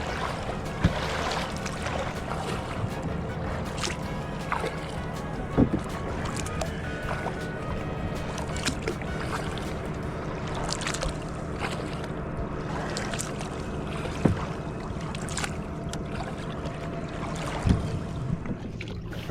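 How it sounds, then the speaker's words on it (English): A big boat passes on the Columbia River, a low steady rumbling drone with water sloshing and wind buffeting the microphone, continuous and fairly close with occasional knocks. "Some kind of boat. Big boat."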